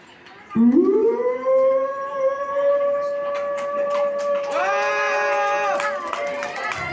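A mimic's voice imitates a dog howling at night, sliding up into a long, loud, wavering wail that holds steady and then swells again near the end, alone with no other sounds.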